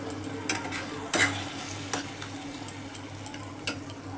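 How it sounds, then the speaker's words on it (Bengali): Spice paste with turmeric is stirred and fried in a pan for an egg and potato curry, a constant soft sizzle under repeated scraping strokes of the spoon, close by. "এবার এটাকে আমি ভালো করে মিক্স করে নেব দিয়ে এটা কিছুক্ষণ আমি কষে নেব মশলাটাকে"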